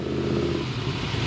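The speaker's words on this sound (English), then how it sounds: "AC with the Cobra engine, no less." A prototype AC car with a Cobra engine drives past in a parade, its deep engine rumble steady and fairly close for a brief moment.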